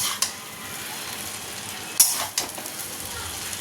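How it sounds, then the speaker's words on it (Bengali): Egg noodles with black pepper fry in a pan with very little oil, giving a soft continuous sizzle broken by a few sharp clinks and scrapes as a utensil stirs and tosses them. "এবার শুধু মিক্সড করে নেবো, মানে ভাজা ভাজা করে নেবো, তাহলেই হবে।"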